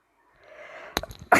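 A single loud sneeze bursts out near the end after a short intake of breath, close to the microphone, set against a quiet room while playing the shooter game Standoff 2.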